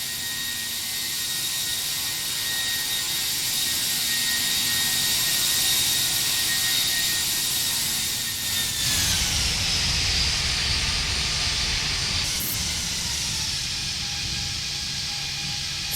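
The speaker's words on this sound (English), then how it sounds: "See how loud the engines are, even I'm this far away from the aircraft?" Airbus A319 jet engines in the ToLiss flight simulator produce a loud, steady whine and roar that shifts in pitch partway through, with a sharp brief change later and no talk.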